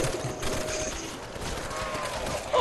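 Rapid gunfire in Call of Duty Nazi Zombies, a dense, fairly distant burst of shots in a snowy map, steady and continuous under faint background noise.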